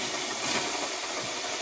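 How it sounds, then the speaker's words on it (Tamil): Chicken pieces dipped in spiced masala batter, KFC-style, deep frying in hot oil, giving a steady loud broadband hiss and sizzle that holds evenly throughout without talk. "எண்ணெய் சூடானதுக்கப்புறம் எண்ணெய்க்குள்ளே போட்டு எடுத்துக்கலாம்"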